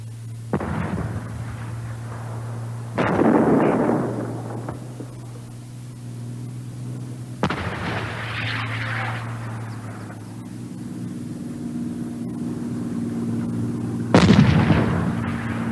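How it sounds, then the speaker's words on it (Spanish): A tank's main cannon fires repeatedly, four heavy booms spaced several seconds apart, each with a rolling rumble, over a steady low engine drone. "Desde la guerra, el cañón principal del tanque se ha hecho más potente."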